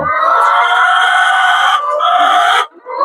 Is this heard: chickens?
yes